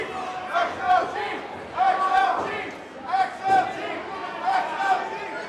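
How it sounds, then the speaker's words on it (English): Packed crowd at a wrestling show in a brewery roars and chants loudly in repeated surging waves, voices shouting together throughout. "the crowd is so loud, the timekeeper can't even hear Luis's calls for the bell"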